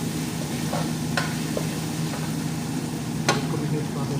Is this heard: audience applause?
no